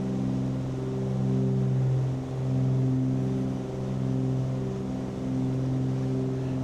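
Aircraft engine at full throttle in Microsoft Flight Simulator, a steady loud droning hum with strong tonal harmonics and slow gentle swells in level, continuous and alone without talk.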